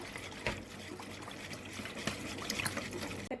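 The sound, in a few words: sauce mixture poured into a pan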